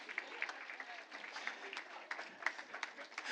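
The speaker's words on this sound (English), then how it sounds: "that is applause for me for getting all your names right" Applause at a school board meeting, a faint, steady patter of many hands clapping in a large room, with scattered sharper claps standing out over several seconds.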